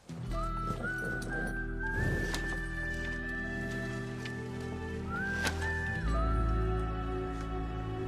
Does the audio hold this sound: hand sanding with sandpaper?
no